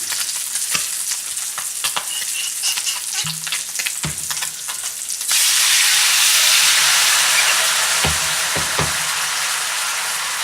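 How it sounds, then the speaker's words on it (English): Wine and orange juice hit a hot pan holding browned pork tenderloin, setting off a loud, sustained sizzling hiss that swells abruptly midway, with a few clinks and taps before it. "I am going to put in wine, orange juice, and turn the temperature down"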